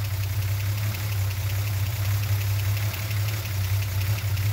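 A Chrysler slant six engine idles steadily with its valve cover off while the valve train is oiled and the lash settings adjusted, giving a loud, even drone with a faint rhythmic ticking throughout.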